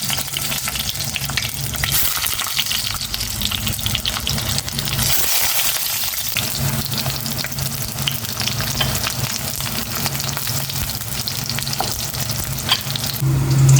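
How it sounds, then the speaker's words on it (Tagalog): Eggplant frying steadily in a pan of hot oil, a continuous dense sizzle and crackle that stays loud and close throughout with no one talking. "Tapusin ko munang iprito yung talong"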